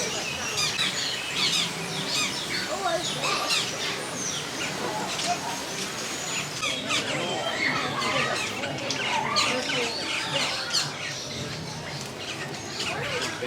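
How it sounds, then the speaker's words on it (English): A flock of birds bathing in a fountain at Walt Disney World keeps up a dense, continuous chorus of chirps, squawks and tweets over the steady wash of splashing water. "There's a lot of birds showering here in the fountain."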